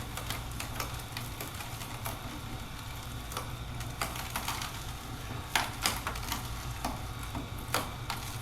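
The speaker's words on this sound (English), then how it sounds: "So we're going to feed more carrots into this and just let it juice away." An Omega 8006 low-RPM juicer grinds carrots with an irregular series of clicks, snaps and crunching ticks over a low steady motor hum, fairly quiet and close.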